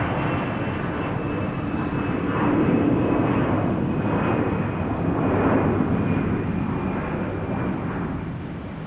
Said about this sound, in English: So the runway that plane just took off is the one closest to us.